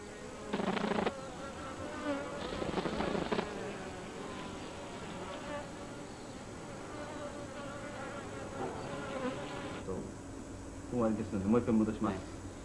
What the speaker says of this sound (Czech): Jaký druh informací si tedy divoké včely vibracemi křídel vyměňují?